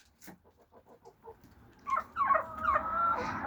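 Hens cluck in a quick run of soft clucks, then louder squawking calls follow close by, with no one speaking.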